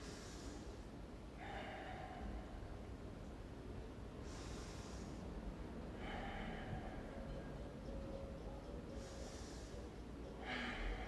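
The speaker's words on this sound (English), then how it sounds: "Three big deep breaths" Slow, deep breaths drawn in and out during a held stick-mobility stretch in a workout class, three long airy breaths spaced a few seconds apart, faint and close over a steady background hiss.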